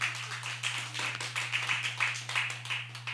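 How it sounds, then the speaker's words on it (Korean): A church congregation claps in a quick, even rhythm over a constant low electrical hum. The claps are moderately loud and blend together into a steady patter. "박수 쳐주세요."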